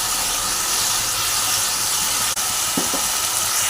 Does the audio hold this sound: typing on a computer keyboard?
no